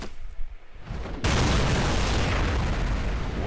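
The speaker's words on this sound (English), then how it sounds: "One little arrow, one big boom." An exploding arrow in an animated fight goes off with one sudden loud boom that cuts in after a quieter moment and rolls into a sustained roaring blast.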